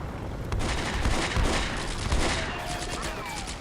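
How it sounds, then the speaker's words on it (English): Small-arms gunfire from infantry squads in the World War II game Combat Mission: Beyond Overlord at La Fière: dense, continuous volleys of rifle and machine-gun fire with overlapping cracks, steady and loud throughout. "Yeah, they start shooting"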